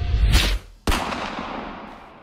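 A single gunshot fired outdoors on a Las Vegas property, a sharp loud crack followed by a long fading echo tail, heard alone with no talk.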